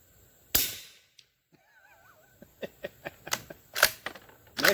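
A suppressed Ruger American Ranch rifle in 300 Blackout fires a single subsonic Fiocchi 220-grain round, giving one sharp, muffled pop that decays quickly, followed by a run of light mechanical clicks and clatter.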